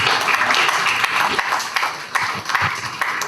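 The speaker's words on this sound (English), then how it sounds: "Let's have a round of applause for Khushi." Audience applause at a Nasscom Foundation talk, a dense patter of many hands clapping steadily and fairly loudly, swelling and easing in uneven bursts with no voices over it.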